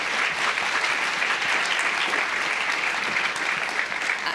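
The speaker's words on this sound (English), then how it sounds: "Let's give them a big round of applause" Audience at a leadership summit session applauds with dense, steady clapping that holds at an even level for several seconds, full and close.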